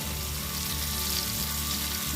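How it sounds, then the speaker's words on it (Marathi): Prawns fry in hot oil in a pan, giving a steady close sizzle with a faint scrape as they are turned. "सुरीच्या साहाय्याने कोळंब्या ज्या आहेत ते तेलामध्ये येतील अशा पद्धतीने फ्राय करायचे आहे"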